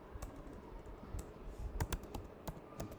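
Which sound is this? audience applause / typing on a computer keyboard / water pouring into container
typing on a computer keyboard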